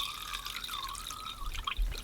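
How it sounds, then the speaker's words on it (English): Purple cabbage water is poured onto rinsed long grain sticky rice, a short soft trickle and splash of liquid close by, ending with a couple of low bumps. "To the rinsed long grain sticky rice, I'm going to pour in all of that cabbage water."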